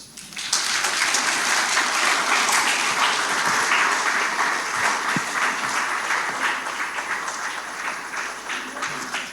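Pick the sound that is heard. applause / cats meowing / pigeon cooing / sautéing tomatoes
applause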